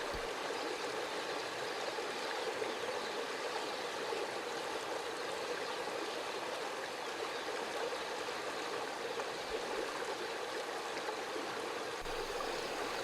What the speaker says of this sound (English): Deep Creek is just barely navigable, slow-moving with many exposed rocks